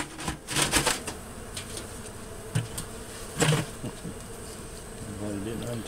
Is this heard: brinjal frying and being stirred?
no